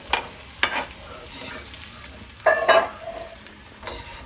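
Chavini snack frying in boiling oil gives a steady close sizzle, broken by a few sharp clatters of stirring in the pan.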